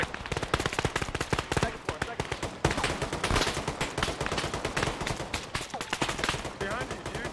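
Heavy gunfire in the Arma military simulation game during an urban firefight, dense bursts of automatic and single shots crackling loudly and almost without pause, with a voice talking faintly under the shooting.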